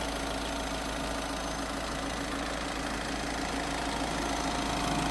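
A 2019 Honda Amaze VX i-DTEC automatic diesel engine idling, a steady, close, continuous rumble with a faint knocking texture and no talk.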